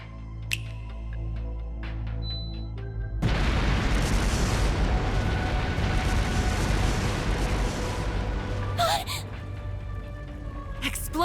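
Explosive artifacts scattered through a palace in the video game Trails through Daybreak go off in a sudden loud burst of booming, rumbling blasts that roll on for several seconds after a quieter start.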